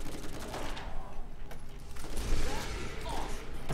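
Rapid bursts from an electric gun in the video game Borderlands, played co-op, crackling and rattling loud and close against a noisy background of combat.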